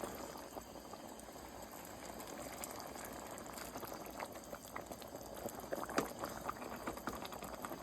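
Turnip greens and roots simmer in a pot, giving a soft, steady bubbling with occasional small pops, faint and close with no talking.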